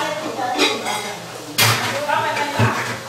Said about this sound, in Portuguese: Agora nós vamos colocar o feijão pra dar uma refogada.